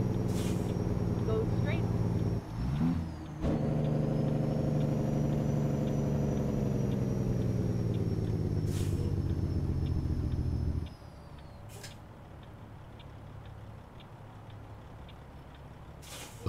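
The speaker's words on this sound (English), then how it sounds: "Those turbos just be singing, man." Freightliner FLB semi truck in American Truck Simulator, its engine droning loud and steady with a whining turbo note riding above, then dropping abruptly to a quieter idle rumble near the end.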